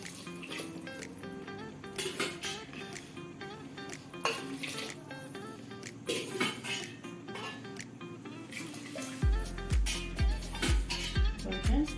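Water poured into a cooking pot of fried meal maker for pulav, a running splashy stream mixed with clinks of pots and utensils, ending with a series of rhythmic knocks.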